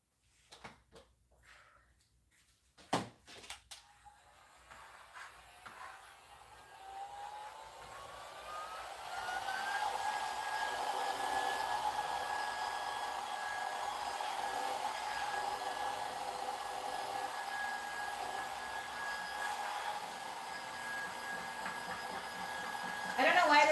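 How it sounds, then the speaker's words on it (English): A vacuum cleaner sucks up mess at a work bench, starting after a few sharp clicks and knocks, then whining up to a steady, fairly loud drone that holds for the rest. "I'm going to use my vacuum, because if I turn it now, there's going to be a big mess"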